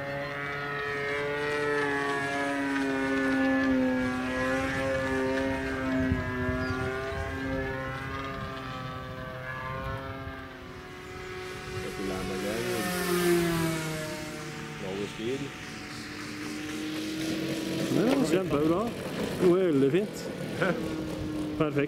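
An RC Sbach 342 aerobatic plane with an O.S 95AX engine and a new propeller flies, its steady engine drone shifting in pitch as it passes, with people talking close by throughout.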